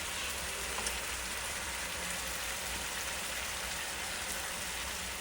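Cauliflower curry in a pan sizzles and hisses loudly and evenly after water is poured in, a dense rain-like crackle that stays steady throughout, with no voices.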